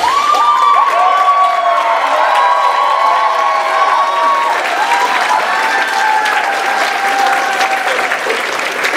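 A loud crowd at a Purdue Philippine Culture Night show erupts in sustained clapping, with long high-pitched cheers and whoops soaring above the applause for the whole stretch.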